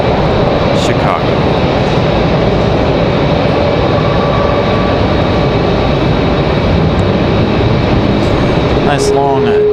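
A Frontier airliner departing Raleigh-Durham International Airport for Chicago, a loud continuous roar of jet engines thundering close by throughout, with a brief faint tone near the end.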